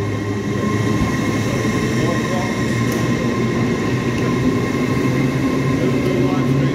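An Azuma class 802 train pulls out of Manchester Victoria on a Newcastle to Liverpool Lime Street service, with a steady loud rumble and engine drone that holds throughout, plus faint wheel squeal.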